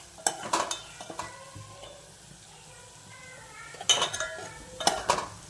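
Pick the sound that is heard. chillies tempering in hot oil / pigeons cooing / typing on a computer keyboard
chillies tempering in hot oil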